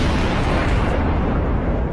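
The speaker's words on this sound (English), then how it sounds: "This triggered a chain of explosions." An ammunition depot detonates after a fire spreads to it. It makes a loud, continuous roar of blast noise that holds steady for about two seconds, and no speech is heard.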